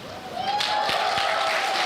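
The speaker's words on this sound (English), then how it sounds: "You are allowed to clap for yourselves as well" Audience applause at a Year 6 school awards ceremony, steady broadband clapping from a room of people that builds within the first half second and holds level throughout, with a faint sustained tone underneath.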